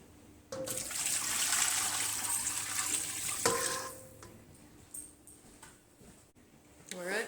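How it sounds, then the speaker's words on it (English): Water pours steadily into a pot for a few seconds, ending with a metallic clunk, followed by quieter kitchen clatter and a brief rush at the end. "now I'm just going to top her up with some water"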